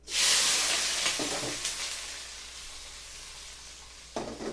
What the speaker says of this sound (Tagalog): pagsabay-sabay na natin paglalagay ng luya, sibuyas, kamatis, pati itong siling green. Ilag igisa na rin natin yan